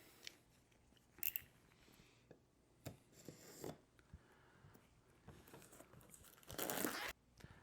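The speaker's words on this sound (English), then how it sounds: "let's go ahead and peel back the plastic and dive on into what's in the box" Plastic shrink wrap being peeled and torn off a Paper Tales: Beyond the Gates board game box, a quiet run of scattered crinkles and sharp tearing rips, with one louder, longer rip near the end.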